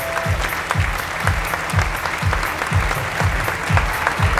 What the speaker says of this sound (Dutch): Uw applaus voor CEO Mark Putman!